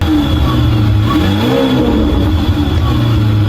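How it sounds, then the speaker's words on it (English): Twin-turbo V8 of a Lamborghini revving steadily, a loud continuous mid-pitched engine roar with rising and falling pitch sweeps, close and sustained throughout. "that twin turbo V8 sounds exactly like an old F1 car"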